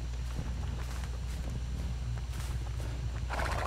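Horse in the Dead by Daylight video game, steady clip-clop of hooves with a faint whinny amid a continuous ambient game backdrop, moderately quiet throughout.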